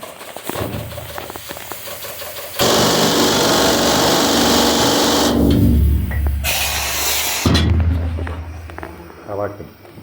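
A loud pneumatic air-leg rock drill hammers away in bursts inside the Mollie Kathleen mine in Colorado, harsh and close, with machine noise and voices around it between runs.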